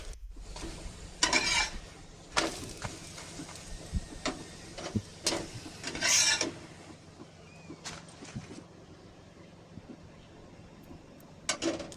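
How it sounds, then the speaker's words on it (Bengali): Parathas fry in a pan with a soft sizzle punctuated by sharp clinks and scrapes of a utensil against cookware, with quieter stretches between the bursts. "এভাবে একটা একটা করে আমি সব পরোটাগুলো ভেজে নিচ্ছি"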